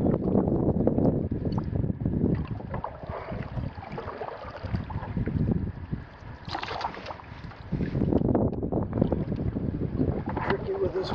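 Wind gusts roar across a lake in the Boundary Waters during a solo canoe trip, a steady close rumble of wind noise rising and falling.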